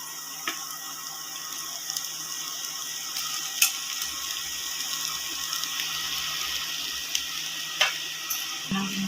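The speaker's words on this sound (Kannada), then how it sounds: "ಇಲ್ಲಿ ಒಂದು ಗ್ಲಾಸಷ್ಟು ನೀರನ್ನು ಹಾಕೋತಾ ಇದ್ದೀನಿ" A glass of water is poured into a mashed potato mixture with coriander powder for aloo sagu, giving a steady close trickle and splash with a few sharp clinks, with no talking.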